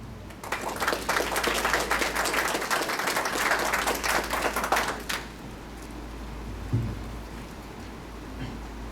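An audience at a legal conference in Lima gives a warm round of applause welcoming a provincial prosecutors' board official, dense clapping for about five seconds that cuts off, followed by quiet room tone.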